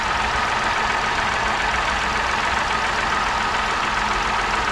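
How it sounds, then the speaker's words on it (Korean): A small three-cylinder car engine, in a Chevrolet Spark, idles steadily with an even, slightly rough hum and a constant hiss, close by and unchanging, with no voices. "일단 이 차는 3기통 엔진이죠."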